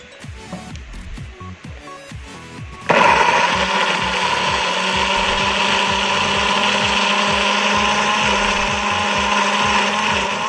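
After a few seconds of quieter rhythmic knocking, a blender motor kicks in abruptly and runs at a steady, loud whir until the end, blending spice paste with a little water.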